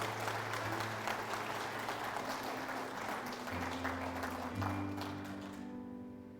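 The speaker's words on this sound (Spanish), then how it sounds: "Vamos a aplaudir al Señor." A church congregation applauds steadily during a sermon, a dense wash of clapping with a sustained organ or keyboard chord underneath, the applause fading toward the end.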